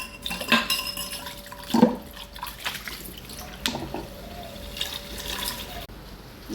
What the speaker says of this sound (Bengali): ডালের মতন একেবারে পানি দিয়ে দেবো।